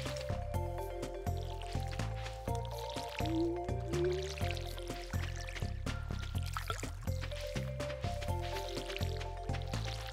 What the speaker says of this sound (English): I was seeing if I could water the campfire.